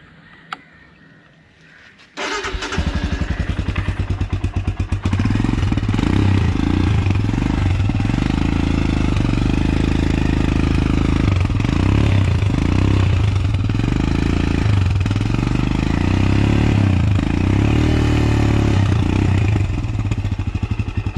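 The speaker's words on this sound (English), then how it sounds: "we are going to rev the bikes at 3k RPM and check the exhaust note of each and every bike" A BS3 Royal Enfield Himalayan motorcycle's exhaust roars into a loud, close, sustained rev held near 3000 RPM after a brief quieter moment, with a throbbing, slightly wavering note throughout.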